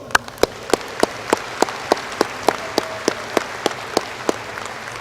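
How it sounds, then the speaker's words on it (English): Applause for teachers and faculty at a 2024 high school graduation, heard as a regular run of sharp, distinct claps, roughly one every third of a second, standing out over a soft background of crowd noise. "So can we just give all of our teachers and faculty a big round of applause?"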